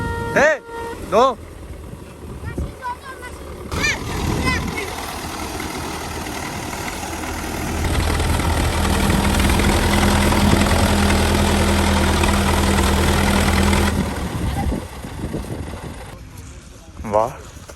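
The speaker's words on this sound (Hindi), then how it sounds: "अभी भाईजान जो है ट्रैक्टर चलाएंगे।" A tractor engine runs out in a farm field, a steady low rumble that swells louder through the middle of the stretch with a droning hum, while people talk before and after it.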